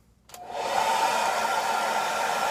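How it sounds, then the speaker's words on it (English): A blow dryer on its cool setting switches on with a click and ramps up into a steady, close whooshing whir with a motor whine, running continuously for drying face cream on skin. "I'm going to put on a cool blow dryer and just let this dry about 30 seconds."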